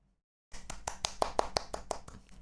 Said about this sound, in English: that's me clapping my hands to cheer you